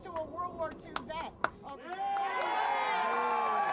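Crowd noise at an April 2009 Lisle Tea Party rally builds into sustained cheering and clapping for veterans after a voice speaks with sharp, close claps.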